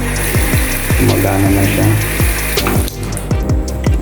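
Water runs from a tap fed by the new supply of a small house, a steady wash under rhythmic low thumps, with people talking over it.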